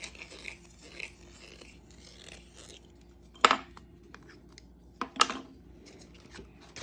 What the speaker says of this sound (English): let's go ahead and trim that cut hole with our deburring tool.